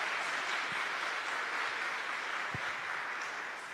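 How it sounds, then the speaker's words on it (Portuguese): Soft, steady applause from a congregation at a Catholic religious talk, a distant even patter of many hands with a couple of faint low thumps. "Pode aplaudir, pode aplaudir"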